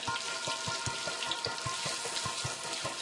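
Whole trout sizzling as it goes into a hot pan, a steady dense fry with repeated soft low thumps and clinks of handling underneath, close and continuous with no talking.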